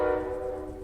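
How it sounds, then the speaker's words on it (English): A sustained, moderately loud train horn chord holds steadily as a train passes through a town, with a low rumble beneath it. "Yep, there's a train. Yep, we have trains in this town."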